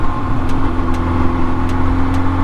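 A 1979 Kawasaki KZ650SR motorcycle cruises along, its engine a loud, steady droning rumble heard up close with continuous wind and road noise.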